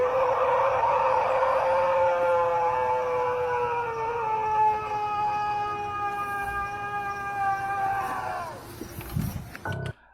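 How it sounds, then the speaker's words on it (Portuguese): A purported real werewolf howl: one long, sustained, wavering howl with rich harmonics, loud and steady for about eight seconds before it fades and breaks off at the end. "segundo esses tais amantes da lenda, assim seria o uivo de um lobisomem real"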